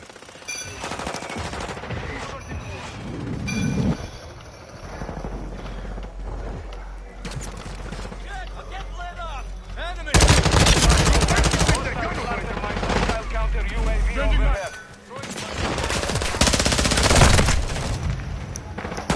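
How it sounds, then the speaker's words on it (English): Rapid bursts of automatic gunfire crackle loudly in a combat firefight, coming in dense clusters with short pauses between and voices speaking over parts of it. "Taking effective fire."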